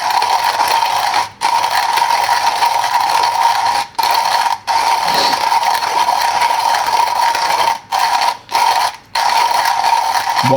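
A coffee grinder grinds beans for pour-over coffee, giving a steady, loud mechanical whir with a faint ratcheting texture. It runs almost the full length, broken by a few short pauses.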